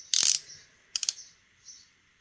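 A blade cuts a slit in a folded paper envelope, giving a sharp close snip, then a quick double crisp cut and a faint soft scrape, all in a quiet room with no talking.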